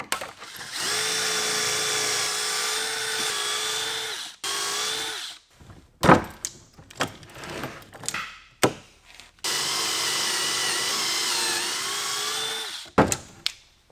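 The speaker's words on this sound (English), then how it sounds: "I have about 17 more pieces to pocket hole on both sides" A power drill bores pocket holes in wood pieces for a desk build: two long, steady, whining drill runs, separated by clunks and knocks as the pieces are handled and repositioned.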